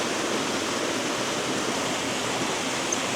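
An icy waterfall pours into frigid cold water, giving a dense, steady rushing hiss that stays constant and fairly loud throughout, with no voices.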